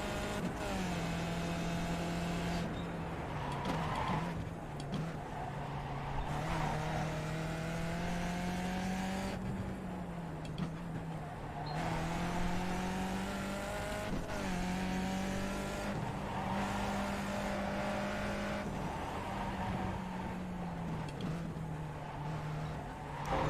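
A race car engine in iRacing, on the back straight at the Raceway at Belle Isle, drones steadily and rises through repeated gear changes, its pitch climbing and dropping again and again over a long continuous stretch with no talk.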